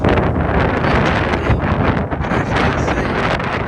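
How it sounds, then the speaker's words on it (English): Strong morning wind buffets the microphone in a steady, loud roar with gusts, filling the whole clip with no voices. "on this very, very windy morning"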